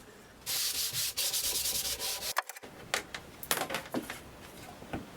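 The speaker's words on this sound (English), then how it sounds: "giving everything a quick rub over" A wooden frame being rubbed down by hand, giving a series of close, breathy sanding strokes with short pauses between passes.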